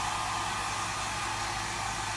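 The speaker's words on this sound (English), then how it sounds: "And you have to use a hair dryer and not a heat gun." A hair dryer blows steadily to dry a screen-printing silk screen, giving a constant, close, even whirring rush with no change in pitch or level and no talking.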